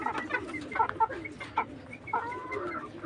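A young pair of silkie chickens, about three and a half to four months old, cluck with local chickens nearby. Short, close clucks and squawks come in uneven bursts over a quiet background.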